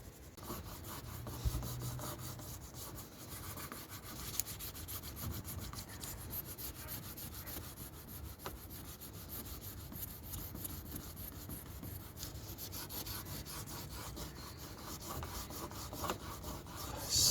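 Hand sanding a Rover 45 car panel produces a continuous, fairly quiet abrasive rubbing that runs steadily throughout with little variation and no speech.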